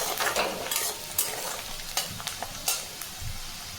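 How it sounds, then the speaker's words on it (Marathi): Onion fries in a pan, a close sizzle broken by several sharp scraping stirs of a spatula at irregular intervals, moderately loud with no voices. "आपला कांदा बघा मस्तपैकी फ्राय झालेला आहे."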